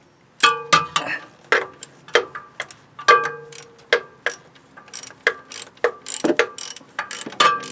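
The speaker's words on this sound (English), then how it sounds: "Tightening bolt." A hand ratchet clicks repeatedly in close, crisp strokes while tightening a bolt on the drive belt tensioner of a Ford 7.5L V8 in a Bounder motor home, with irregular rhythm and no talking.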